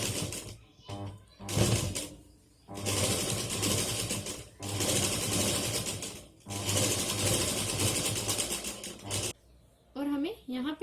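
A sewing machine stitches a side bag made from old jeans, running in several long steady bursts separated by short pauses, with someone speaking between the runs.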